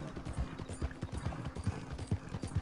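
Hooves of a ridden horse clip-clop in Red Dead Redemption 2, a steady even trot of close, moderately loud thuds across the whole stretch, with no voices over them.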